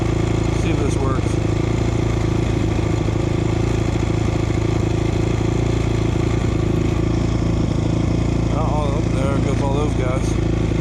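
A motocross motorcycle engine idles steadily at a motocross park, a continuous close throbbing rumble with a few brief rattles and faint voices near the end.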